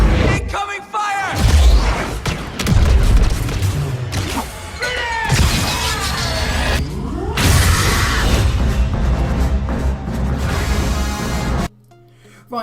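Blaster gunfire and explosions from a Star Wars Battlefront Bespin trailer, a loud, dense run of booms, whooshes and rapid shots mixed with shouted voices and score, ending in a short quieter tail.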